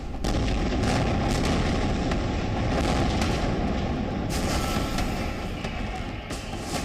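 A steady, dense rumble of heavy artillery booms in Gaza rolls on without pause, loud and continuous, with sharper bursts standing out now and then.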